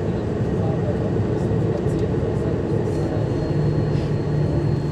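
Inside an Airbus A340 cockpit while lining up on runway 16 at Zürich, a steady, loud rumble of engines and airflow fills the background throughout.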